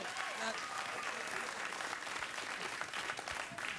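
Studio audience applause on a late-night talk show, a broad continuous clapping roar, fairly quiet overall, with talk mixed in beneath it.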